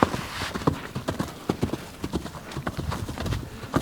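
Young colt loping loose in a round pen, quick irregular hoofbeats thudding on the ground in a rolling three-beat rhythm, fairly close, with faint voices now and then.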